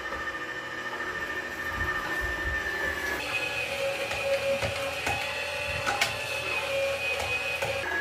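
A Girmi juicer grinding apples into juice and pulp, a steady whirring motor drone with a rising tonal whine and small rattling knocks throughout, close and continuous.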